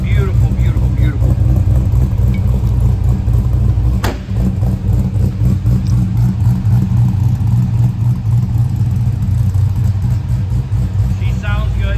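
A 1955 Chevrolet resto mod runs with a loud, steady low engine rumble and a sharp click about a third of the way in, while people talk briefly nearby.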